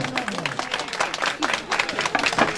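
Dense applause from an auction crowd, steady clapping with some voices mixed in throughout.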